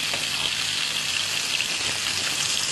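Bacon-wrapped fish rolls pan-frying in oil, a dense, even crackling sizzle heard up close and continuous for a few seconds with no voices.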